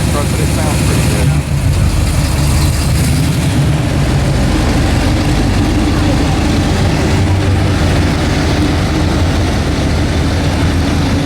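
A Pontiac LeMans with a 455 engine runs at a drag racing event, a steady loud low rumble throughout with no pauses, close to the microphone.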